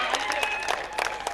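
Brief burst of audience clapping at a cricket league prize ceremony, lively and close, with a voice speaking over the applause.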